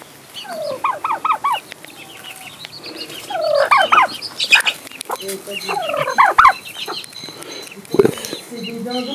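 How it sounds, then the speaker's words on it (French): A flock of turkeys at the Citadel of Besançon gobbles in repeated rattling bursts, loud and close, with clucking fowl mixed in and occasional voices nearby. "C'est des dindons."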